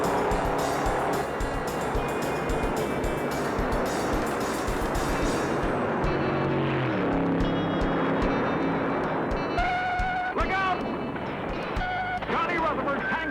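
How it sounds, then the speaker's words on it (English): Stock cars roar past at close range in the 1964 Daytona 500, engines howling and shifting pitch, with a crowd or commentator's voice under the din. "on lap 52, Petty passes to take the lead again"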